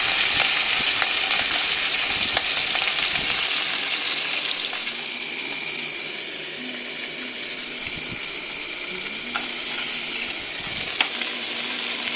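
Salted fish sizzling in a pan during a second frying, a steady hiss of oil with occasional soft clinks and stirring, close and continuous with no talk.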